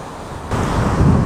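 Rough ocean waves break on a Texas beach along the Gulf coast, a loud broad wash of surf that swells midway, mixed with blustery wind buffeting the microphone.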